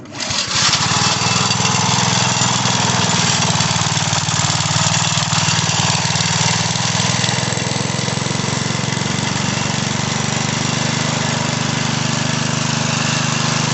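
Briggs and Stratton 2 hp engine on a Power Trim 150 lawn edger catches and runs, a loud, steady, buzzy small-engine roar that holds close and even throughout.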